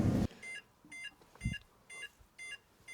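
A Peugeot 206's warning chime repeats in evenly spaced short electronic beeps, faint against the background, with a thump at the start and another low knock partway through.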